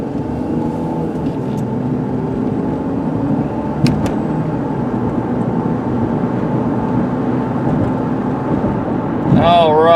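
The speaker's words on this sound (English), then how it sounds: "Just be nice and quiet and let you listen to the motor." A 2003 Nissan Altima SE engine hums steadily from inside the car while driving, a continuous low drone with road noise and no talking, lasting throughout.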